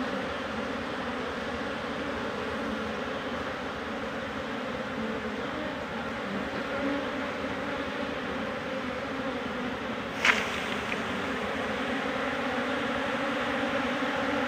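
A steady, dense buzzing of many Apis cerana honey bees, a continuous hum at moderate volume with one brief sharp click partway through.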